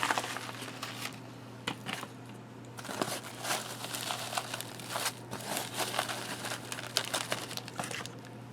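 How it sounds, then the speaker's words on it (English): A freeze-dried meal bag, paper outside with silver foil lining, crinkles and rustles in repeated close bursts over a steady low hum, with no talking. "this is actually a paper on the outside with a silver foil on the inside"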